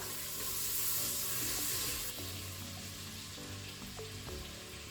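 Onions sizzle and fry in melted butter inside a Crockpot Express pressure cooker, a steady close hiss with a few soft stirring knocks and scrapes, and no talking.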